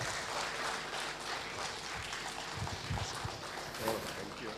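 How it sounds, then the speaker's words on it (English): A conference audience in Nagpur applauds a guest taking the stage, a dense wash of clapping from a large crowd that continues steadily, with voices faintly mixed in. "Please, round of applause,"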